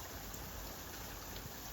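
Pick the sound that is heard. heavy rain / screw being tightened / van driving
heavy rain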